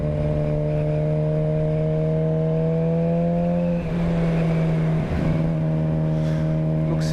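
A Suzuki GSX-R sport motorcycle ridden two-up with a passenger gives a loud, steady engine drone that climbs in pitch, then dips and recovers at gear changes, with wind rushing underneath.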